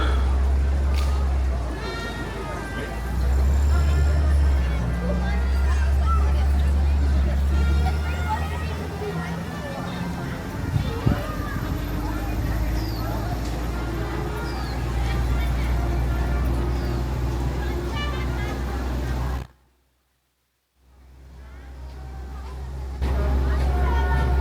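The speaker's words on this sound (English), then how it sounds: "welcome aboard the Disneyland Omnibus. We'll be taking a trip up Main Street to the castle" A Disneyland Omnibus rolls up Main Street during Halloween season, its steady engine drone and low road rumble running beneath an announcer's voice and crowd chatter before a brief dropout, then resuming.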